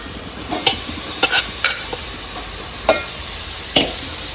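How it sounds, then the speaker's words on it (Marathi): Steady sizzling of mutton masala frying in a hot pan over high flame, punctuated by several sharp scraping clicks of a spatula stirring at irregular intervals. "ही मटणाची फोडणी. गॅस फास्ट कर."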